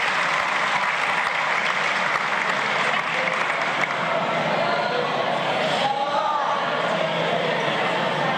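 Sustained applause from a large crowd at the opening of a national congress session, a dense steady roar of clapping with no pauses.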